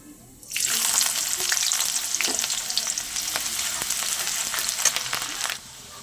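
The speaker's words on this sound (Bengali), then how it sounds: "পেঁয়াজটা একটু ভাজা ভাজে করে নিয়ে" A sudden loud sizzle erupts as chopped onion hits hot oil, then continues crackling steadily with stirring before cutting off.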